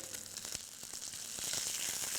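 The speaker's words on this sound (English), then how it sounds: "This frying here is actually to develop the flavor in the chicken" Chicken pieces browning in a hot pan give off a soft, even sizzle with occasional small pops and crackles, quiet and close, swelling slightly toward the end.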